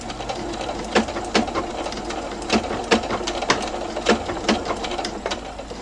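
An industrial Juki sewing machine runs slowly through bulky quilt binding. A steady, close mechanical drone is broken by regular sharp needle clacks about every half second.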